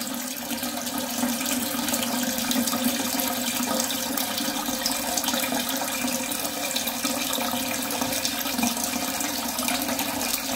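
Water rushing steadily into an Ideal Standard toilet cistern as it refills, a constant hissing, gurgling flow with no pauses, close by and unaccompanied by talk.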